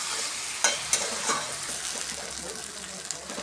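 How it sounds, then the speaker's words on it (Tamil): Ivy gourd (kovakkai) pieces fry in oil with a continuous soft sizzle, punctuated by a few sharp clicks of a spoon against the pan. "நல்லா எண்ணெய் அப்படியே மிதந்து வருது பாருங்கள், ஃப்ரை ஆகிட்டு தெரியுதுங்களா?"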